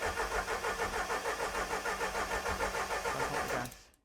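A Ford Escort engine cranks over and over without catching, even after a dose of easy-start spray. The starter makes a steady, rhythmic churning for about three and a half seconds, then cuts off abruptly.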